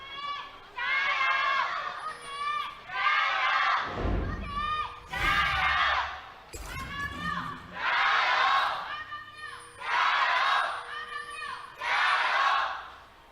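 A large arena crowd at an LPL esports match in Shanghai cheers and shouts in loud, surging waves, swelling and dropping repeatedly with deep thumps mixed in.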